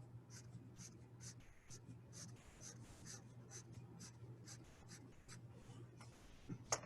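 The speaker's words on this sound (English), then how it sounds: "Let me use pencil this time." A pencil shades on paper while a system of inequalities is worked through, giving a steady run of short scratchy strokes in a quick, even rhythm, close and fairly quiet over a low steady hum.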